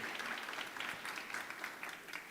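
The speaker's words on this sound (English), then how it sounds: "Give another round of applause." An audience at an anti-corruption summit applauds the Vice Chancellor, a steady, dense round of clapping heard from a distance that fills the whole short moment.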